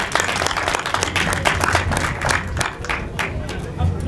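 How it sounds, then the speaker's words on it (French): Audience at the inauguration ceremony for a solar power plant applauds steadily with sustained, dense crowd clapping close by, a speaking voice faintly mixed in. "Et je vais vous demander à tous d'applaudir les chevilles ouvrières, les directeurs généraux et les présidents pour ce très beau succès."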